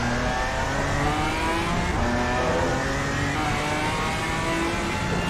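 GT4 race car engine in Assetto Corsa Competizione at Paul Ricard, short-shifting on an out lap, a loud continuous drone that stays steady and dense throughout, with no talk over it.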